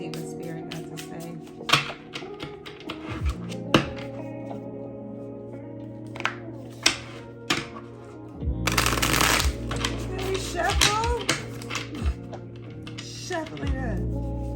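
Tarot cards are shuffled by hand close up in repeated riffling bursts and sharp slaps, with a longer continuous riffle midway, while a voice speaks and music plays quietly behind.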